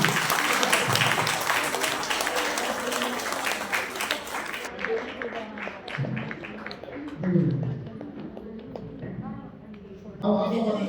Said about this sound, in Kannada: ಸ್ವಲ್ಪ ಜೋರಾಗಿ ಚಪ್ಪಳೆ ಮಾಡಿ